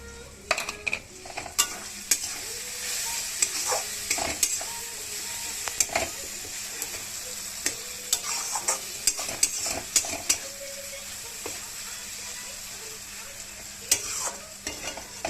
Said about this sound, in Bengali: দেখো মশলাটা ভাজা হচ্ছে, ভালোই তেল ছেড়ে দিচ্ছে